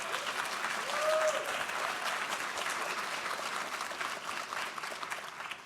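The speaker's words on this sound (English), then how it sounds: "So can you give me a round of applause for those guys first?" An audience at a community garden awards ceremony gives a sustained round of applause, the clapping a little distant and steady, with a faint voice briefly rising above it.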